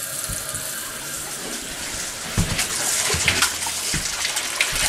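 A household toilet runs and refills after a water outage, giving a steady broadband rush of water that grows louder and more turbulent partway through, with gurgling surges and no talking.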